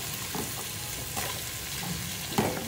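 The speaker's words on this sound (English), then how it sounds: "As long as they are not the same, then you can saute together." Small cubed ingredients for salmon chowder sauté in a pan with a continuous sizzle, broken by occasional scrapes and stirring knocks, including a louder clack near the end.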